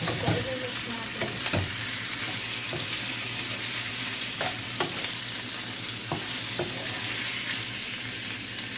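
Squid stir-fried and mixed in a hot pan, steady sizzling with repeated scraping and clanking strokes of a utensil against the metal, close and clear.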